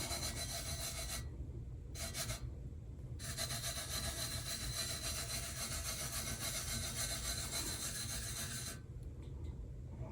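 Fingers burnish a sticky sheet decal onto a glitter-coated Valentine's tumbler, a close, steady scratchy rubbing that runs continuously with a few brief pauses near the start and a faint break near the end.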